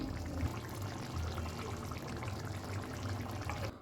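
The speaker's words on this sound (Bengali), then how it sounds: "তার আগে দিয়ে দেব এক চামচ ঘি" A spoonful of ghee is poured into a pan of potol chingri, a pointed-gourd and prawn curry, making a steady close liquid wash that runs for a few seconds before cutting off.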